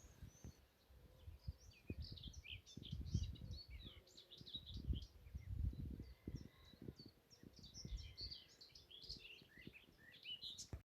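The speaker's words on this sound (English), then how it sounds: "behind me you can hear some white throats, and there was a garden warbler earlier on" Common whitethroats and a garden warbler singing in open countryside at Sutton Hoo, with faint, scattered chirps and trills in the distance over low rustling and wind noise.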